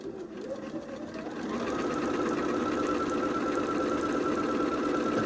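A sewing machine stitches a seam through quilt fabric for an Ohio Star quilt block. It starts slowly, then settles into a fast, steady, close mechanical whir.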